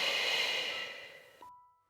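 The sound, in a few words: breathing during Pilates hold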